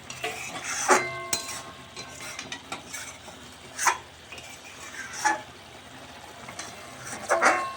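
Cooked mushroom dish with a sprinkle of garam masala, taken off the heat and poured out. A few clinks and scrapes of a spoon against the pan stand out over a soft sizzle, with no one speaking.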